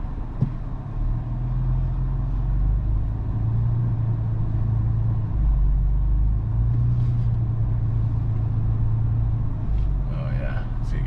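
A Toyota FJ Cruiser crawling off-road in four-wheel-drive low range, its engine giving a steady low rumble and drone throughout, with a driver speaking over it.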